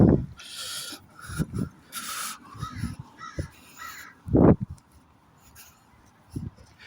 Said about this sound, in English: That's the crow. That's the crow.